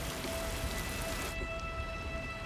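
Rain pouring and running off Arabian mountains: a steady, dense hiss of falling water that drops somewhat softer midway, with no voices.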